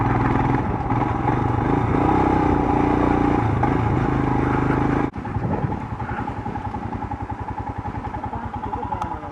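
A Royal Enfield Himalayan BS6 ridden off-road gives a steady, close engine drone with wind buffeting, then a brief dip and change in engine note partway through before it continues.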